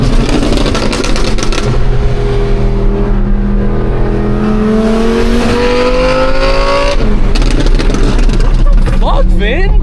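An Audi R8 V10 with an aftermarket exhaust revs up and holds a rising, loud engine note before dropping off, with people talking and reacting excitedly over it nearby.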